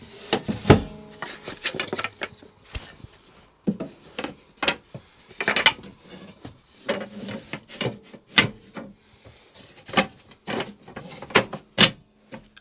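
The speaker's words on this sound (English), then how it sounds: "We take out the bed slats." Wooden bed slats are lifted out from under the hinged back lid of a seat in a Peugeot Boxer campervan, giving a run of sharp knocks, clatters and scrapes of wood at close range, irregularly spaced with short pauses between.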